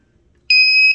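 A temperature-check device lets out a single steady electronic beep that starts abruptly halfway through and holds at a clear, moderate level, with quiet room sound before it.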